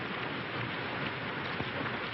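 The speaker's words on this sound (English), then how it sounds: "And this rain." Rain falls steadily in a dense, even hiss with faint pattering on surfaces, continuous and moderately loud with no voices over it.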